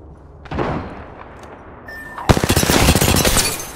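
A battle royale video game fight: a single early shot, then a loud, rapid burst of automatic gunfire close by.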